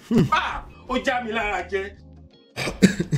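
A deliberate, staged cough bursts out sharply at the start and comes again near the end, with a stretch of spoken voice in between, all close and fairly loud.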